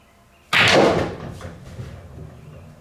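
A single hard pool cue strike on a billiards shot, a sharp loud crack that rings briefly and decays into quieter ball and rail knocks.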